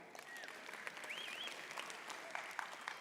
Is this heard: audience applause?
yes